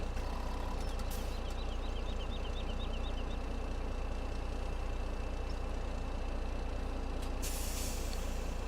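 Air brakes on a truck in Farming Simulator 17, heard as a steady engine idle with a brief hiss of released air near the start and again near the end.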